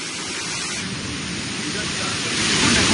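A steady, dense roar of heavy afternoon rain driven by strong storm wind in Kolkata, growing slightly louder toward the end.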